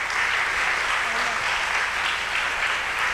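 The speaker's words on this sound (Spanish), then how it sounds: "un aplauso a Elba." A crowd at a panel on promoting cultural industries applauds steadily, a dense wash of clapping that stays even and sustained throughout.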